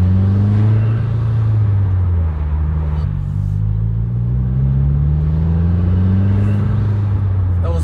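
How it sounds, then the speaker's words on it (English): Car fitted with an Invidia catback exhaust, heel-toe downshift rev match to about 3,000 rpm: a loud, deep exhaust drone that rises and falls in pitch with two blips of throttle, steady and close. "Downshift rev match heel toe. You could hear the revs just, oh, you could hear it now."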